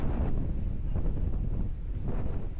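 Strong wind buffets the microphone at Marcy's Point campsite in Tanay, Rizal, a continuous low roaring rumble with gusty swells throughout the short stretch.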